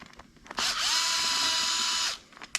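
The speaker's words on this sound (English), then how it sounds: "There are 4 T9 Torx bit screws that you have to take off for this handle application." A power driver whirs steadily for about a second and a half, removing T9 Torx screws from the center console cover of a 4th-generation Dodge Ram truck, close and alone with faint clicks around it.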